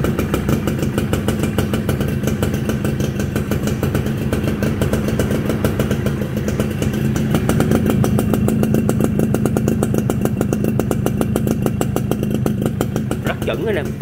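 A Suzuki Royal 110cc motorcycle engine runs steadily and loudly up close, a fast even putter that holds throughout with slight rises in pitch, while someone talks over it.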